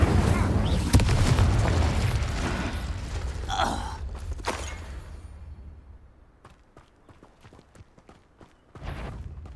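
A fire spell is cast in the video game Hogwarts Legacy, a loud whooshing burst that fades over a few seconds, followed by quieter clicks and a final short burst near the end.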